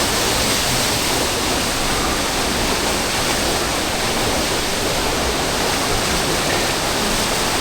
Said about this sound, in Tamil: இது பார்த்தீங்கன்னா ஒரு மாதிரி லேயராக இந்த தண்ணி ஊற்றிக்கிட்டு இருக்கு